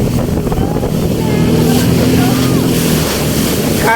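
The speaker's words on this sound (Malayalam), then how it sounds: "കരയുടെ കുടുംബം കയറിയ ബോട്ടാണിത്" Speedboat on Punnamada backwater in Alappuzha: a loud, continuous engine drone close by, mixed with rushing water and wind buffeting the microphone.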